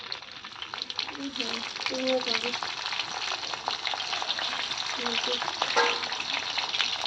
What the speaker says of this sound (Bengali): প্রথমে লঙ্কাটা দিয়ে দিব